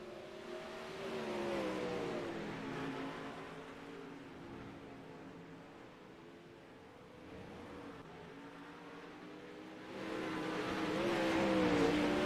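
Sprint cars of the 360 class race around the dirt oval at Kokomo in the iRacing simulator, a steady layered engine drone with rising and falling revs as the field circles, swelling louder near the end.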